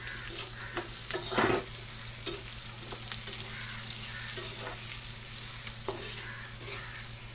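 Eggplant fries in a pan with turmeric and salt while being stirred. A soft, continuous sizzle runs throughout, broken by a few scraping stirs, and no one speaks.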